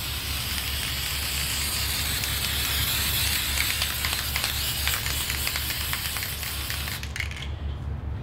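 A steady, broadband hiss of an aerosol spray can spraying copper head gaskets continuously for several seconds, cutting off abruptly near the end.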